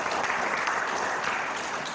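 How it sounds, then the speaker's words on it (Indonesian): Steady, dense applause from a church congregation at an Indonesian worship service, filling the whole stretch at even loudness with no pause or voice standing out. "Beri tepuk tangan"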